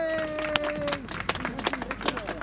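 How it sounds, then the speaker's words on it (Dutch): Audience applause and crowd noise after the winner of a race is announced, a brief patter of clapping rising after a voice over a PA at an outdoor event. "En uw warm applaus alsjeblieft."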